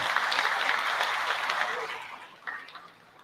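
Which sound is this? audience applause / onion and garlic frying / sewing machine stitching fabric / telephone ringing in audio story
audience applause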